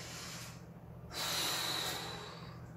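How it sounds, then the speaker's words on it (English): A slow, steady breath during a glute stretch in a slide and bottle workout: a soft hiss of air that swells into a fuller, louder exhale midway, close and alone with no talk. "We want to slow our breath down."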